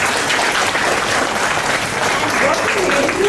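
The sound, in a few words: audience clapping at a workshop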